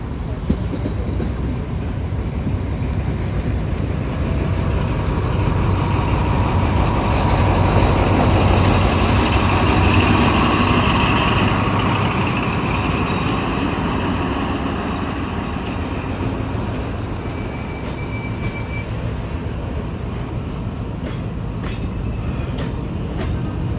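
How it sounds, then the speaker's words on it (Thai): A long, heavy rumble of a very long freight train carrying oil from a refinery rolling into Bang Sue Junction platform 3, with a broad continuous roar and occasional high squeals near the end. "ขบวนรถเข้าสู่ชุมทางบางซื่อชานชลาที่ 3 เป็นขบวนรถสินค้าขบวนที่ 633"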